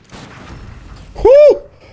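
A single sharp gunshot from enemies in Bloodborne, loud and close, with a ringing, tonal tail lasting about a quarter second after quieter background game sounds.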